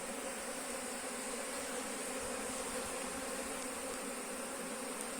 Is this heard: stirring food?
no